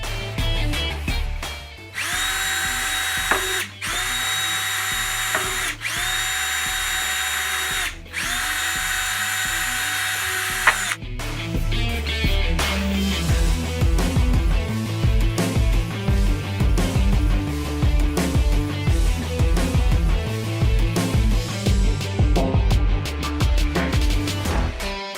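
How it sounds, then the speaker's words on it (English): A power drill whirs in several short, loud bursts, followed by rougher grinding and cutting noises as a plastic RC car shell is trimmed and drilled, close by. "I'm going to have to do a bit of trimming and drilling to make it fit,"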